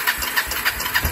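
Kawasaki KLF Bayou 300 ATV engine running with no fuel tank fitted, a close, loud, hissing chug pulsing in a quick, slightly uneven rhythm, heard alone.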